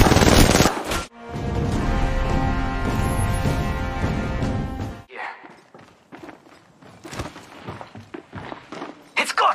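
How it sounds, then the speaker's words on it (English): Rapid automatic gunfire from Apex Legends Mobile, a dense sustained burst followed by scattered sharper shots and clatter, with voices talking over the action. "Contact, I'm getting shot at!"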